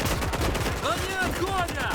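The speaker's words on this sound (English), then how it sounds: "But the MG gunner is suppressing them, not letting them to come close." Rapid bursts of machine gun fire hammer away in a Gates of Hell Ostfront battle, dense and rhythmic and close, with other shots and whistling rounds layered into the din.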